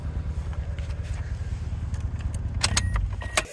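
A car engine with a constant misfire, suspected dirty injector, idles with an uneven low rumbling pulse throughout, close and steady, with some brief rattling or jingling near the end.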